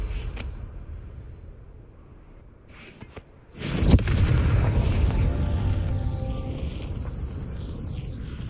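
Confringo, a blasting spell in Hogwarts Legacy, goes off with a sudden loud boom after a quiet stretch, then a long, rumbling roar that slowly fades.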